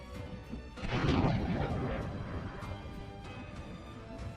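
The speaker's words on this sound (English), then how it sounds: "video circulated online depicting the Ukrainian HIMARS firing rockets at night" A Ukrainian HIMARS rocket launcher firing at night: a roaring, rumbling launch blast that swells and then fades into a long rushing wash, with a few sharp cracks, heard at a distance and faintly.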